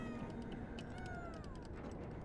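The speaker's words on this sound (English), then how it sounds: "it's making cat noises because I died. It is a cat." A cat companion in the video game Planet of Lana meows after the player character dies, a faint rising and falling mew over steady game ambience.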